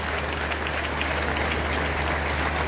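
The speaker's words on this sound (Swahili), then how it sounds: "Appreciate Mom kwa makofi." Applause for a mother at a memorial tribute: steady, dense clapping from a gathered crowd filling the whole moment at even loudness, with no talk over it.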